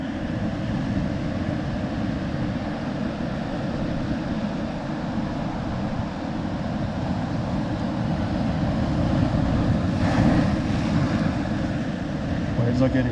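Choppy sea waves wash and rumble around a fishing boat offshore, a steady low roar mixed with wind buffeting, swelling slightly toward the end; no talking is heard.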